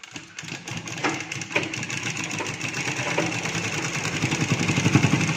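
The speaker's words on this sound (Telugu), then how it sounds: "ఇప్పుడు మళ్ళీ ఇంకొక స్టిచ్ ఇటు చివరి నుంచి ఇంకొక స్టిచ్ అయితే వేసుకోవాలి" Sewing machine running steadily while stitching a Punjabi dress, a continuous close mechanical whirr with rapid needle rhythm and brief pauses, alone without talk.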